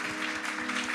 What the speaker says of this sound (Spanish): Demos aplausos una vez más.